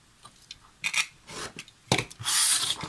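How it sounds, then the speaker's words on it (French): A blade cuts excess cardboard for a steampunk crafts project on a cutting mat, giving several short rasping, scraping strokes of varying length, close and fairly loud, with no talking. "Je coupe le surplus."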